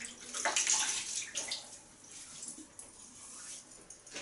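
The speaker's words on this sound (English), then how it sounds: "Quick rinse." Face rinsed with running water over a basin, a steady close splashing and flowing for a few seconds, loudest early and fading slightly.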